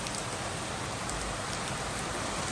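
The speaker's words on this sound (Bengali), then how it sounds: "অনেক অনেক শিলাবৃষ্টি হচ্ছে আমাদের ঢাকায়" Heavy rain with hail pouring down in Dhaka, a dense roaring hiss of drops striking surfaces that holds steady and loud from start to end, with no voices.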